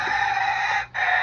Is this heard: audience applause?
no